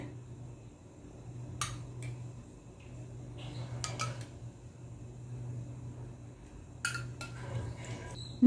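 A pongadalu (unniyappam) pan set down on a stove with a few sharp metallic clinks, followed by oil poured in, over a steady low hum of kitchen background.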